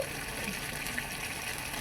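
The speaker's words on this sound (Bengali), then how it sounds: "আর এখানে আমি একটু জল দিয়ে দিচ্ছি মশলার পেটটিকে ধুয়ে" Water poured into a pan of cooking spices to rinse the masala, a steady splashing gush lasting the whole moment at moderate loudness with no voices.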